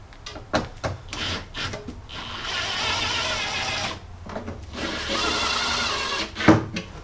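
Power ratchet driving bolts into lower door armor on a Jeep Cherokee XJ, a series of close mechanical whirring bursts with short pauses, two long sustained runs, and a high steady whine over the work.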